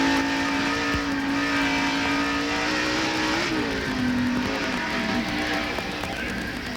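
In-car sound of a 1990 NASCAR stock car racing at Dover Motor Speedway: a loud, steady V8 engine drone close up, with pitch dips as it lifts and accelerates again, and no talk.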